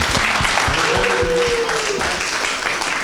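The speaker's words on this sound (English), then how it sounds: "Another round of applause for all of our entrepreneurs." A burst of audience applause for entrepreneurs at a business accelerator final presentation, dense clapping from a crowd with a faint tone rising briefly over it.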